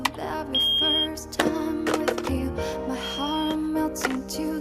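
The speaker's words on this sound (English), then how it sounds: "The headphones beep 4 times." Two faint, thin electronic hearing-test beeps from headphones, well apart, sit quietly beneath louder background music.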